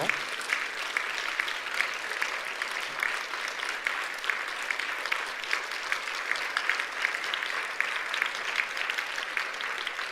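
A church congregation at a Korean Sunday worship service gives a round of applause, a brisk, continuous clatter of many hands clapping at a steady level for about ten seconds, with faint voices underneath.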